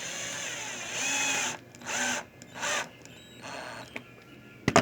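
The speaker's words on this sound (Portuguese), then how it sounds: "Então posso meter parafuso sem problema." A power drill drives a screw into a cutting jig for skirting and trim, whirring in several short bursts separated by pauses, ending with a few sharp clacks.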